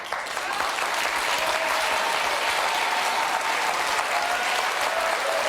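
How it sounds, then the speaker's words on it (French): An audience applauds in a dense, steady wash of many clapping hands that holds at an even loudness throughout. "Les gens ont encore applaudi."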